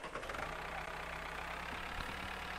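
A tractor engine idles in the Farmers Life farming game, giving a steady, rough mid-range rumble that runs unbroken and fairly loud for the whole stretch with no talk over it.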